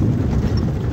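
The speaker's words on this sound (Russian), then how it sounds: "Около 50 голов лошадей" Hooves of a herd of about fifty loose horses clop on the ground in a dense, overlapping patter, close and steady through the short stretch, with no voices.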